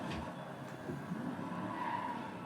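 Tires skid as a car drifts around a corner in the racing game Driveclub, played with a Thrustmaster T80 488 GTB wheel, a short, steady, moderately loud squealing hiss over engine hum, with no talking.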